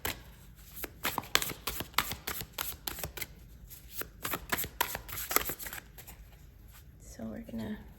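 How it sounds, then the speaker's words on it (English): A deck of tarot cards is shuffled by hand in quick, crisp riffling bursts close to the microphone, easing off near the end as a voice speaks. "so we're gonna shuffle the deck and take it from there."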